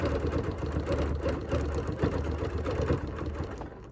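Sewing machine stitching a quilted embroidery sampler block, a continuous fast mechanical whir and rattle running steadily and close throughout.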